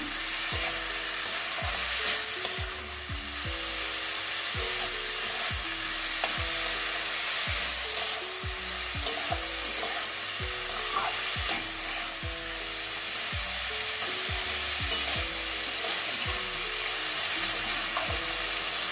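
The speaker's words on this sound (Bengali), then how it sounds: "এবারে ভালো করে মিশিয়ে নেব" A spoon repeatedly scrapes and knocks through an egg, cabbage and carrot curry in a pan, a steady rhythm of stirring clacks over a constant close sizzle.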